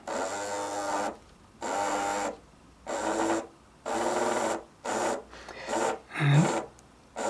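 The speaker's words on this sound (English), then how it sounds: "on every combination of wheels we're getting the motor turning" A small electric motor in a whitemetal 009 narrow gauge model locomotive whirs in seven short bursts of about a second each, separated by brief pauses, a thin, high buzzing hum close to the mic.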